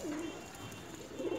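Pigeons coo softly and close by in hot summer weather, two low, throaty coo phrases at the start and end of a brief quiet moment.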